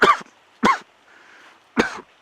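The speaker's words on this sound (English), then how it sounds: "Can you please just stop coughing for 1 minute?" A person coughs three times in separate bursts, close and loud, with short quiet gaps between.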